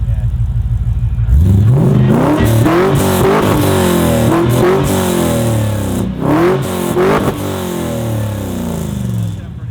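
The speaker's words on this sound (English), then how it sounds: "now we have the LS with the Rod Shop exhaust on it" LS V8 car engine fitted with a Rod Shop exhaust, revving hard in repeated deep blips and rising pulls, loud and close, with voices talking over parts of it.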